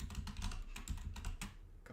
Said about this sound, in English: Gosh, typing.